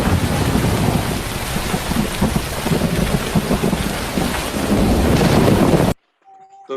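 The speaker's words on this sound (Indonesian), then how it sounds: "Tuhan telah membuka pintu-pintu air, baik ada yang di laut maupun yang ada di langit, supaya turunlah hujan deras." Heavy rain pours steadily with rumbling thunder in a dense, loud, continuous wash that cuts off abruptly near the end, leaving near silence.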